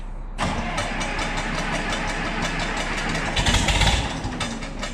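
A diesel engine with its manifold heater engaged cranks and fires, then settles into a steady, loud idle close by, with a brief surge of revving near the end.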